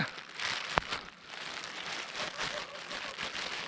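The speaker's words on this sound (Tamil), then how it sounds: "மழை வேற விடாமல் பெஞ்சிட்டே இருக்குது" Steady rain falls on a mountain trek to Tungnath temple as a soft, continuous hiss, with one sharp tap early on and no talking.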